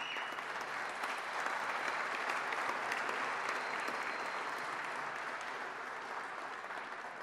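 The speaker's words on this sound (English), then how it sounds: "So feel free to applaud for them at any time." Sustained audience applause at a broadcasters' hall of fame induction ceremony, a dense steady wash of clapping from a large crowd that holds at the same level throughout.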